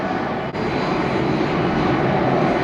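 Jet airliner engines roaring steadily during takeoff at Atlanta Hartsfield airport, a loud, broad sustained rumble heard from nearby without talk.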